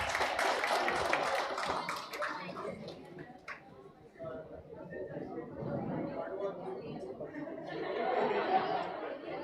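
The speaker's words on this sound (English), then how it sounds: "Please give the team a round of applause." Audience applause for a competition team at a youth gram sabha valedictory function, clapping mixed with chatter and a little laughter, moderately quiet with voices throughout.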